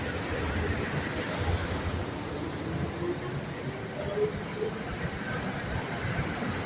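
A SEPTA commuter train pulls out of Jenkintown station, making a broad, steady rumble and rolling wash of wheel noise at moderate distance, with faint high squeal in the background.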